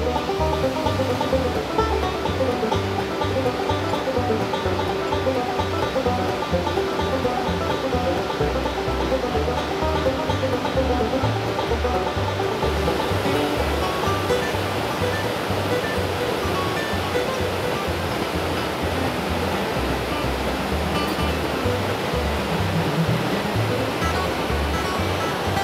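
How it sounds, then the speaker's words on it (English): A waterfall on Lost Creek in Tennessee pours down onto a rocky base, a loud, steady, unbroken rush heard up close with no voices. "Isn't this a beautiful waterfall?"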